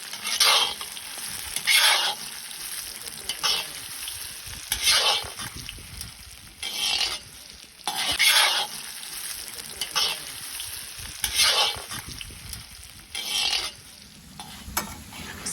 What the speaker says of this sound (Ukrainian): Посипаємо картоплю в велику кількість олії, нарізаної вже як по-селянськи, і обжарюємо до такої рум'яної смачної скоринки